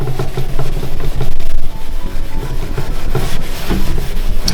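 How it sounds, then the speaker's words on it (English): Cloth scrubbing a sword blade with FLITZ metal polish, loud, close, rapid back-and-forth rubbing strokes in a continuous rhythm. "Just keep on giving it a few more scrubs."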